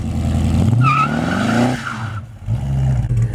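A Plymouth Duster spins its rear tires without a traction device, loud close engine roar with a rising tire squeal that fades into a lower rumble.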